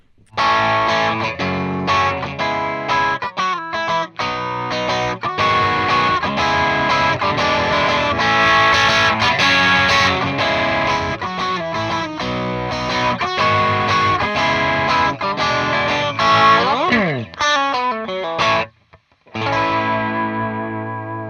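A Yerasov TS-20 overdrive pedal set to its lowest gain, driving an electric guitar that plays a continuous run of lightly gritty chords and single notes, loud and close, with a brief pause near the end before the playing resumes.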